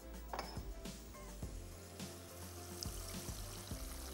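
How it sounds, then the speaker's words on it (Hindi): Water poured into a pan with granulated sugar and a little chili for a slow-cooked sauce, a faint steady trickle with small clinks of utensils in a quiet kitchen. "और थोड़ा सा इसमें हम शामिल करेंगे जनाब पानी"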